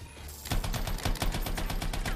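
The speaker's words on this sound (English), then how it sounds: "we're gonna have to use my gun on this one" Rapid gunfire from a weapon in the video game Anthem cuts in after a brief quieter start, a fast, even burst of repeated loud shots continuing without a break and with no voices.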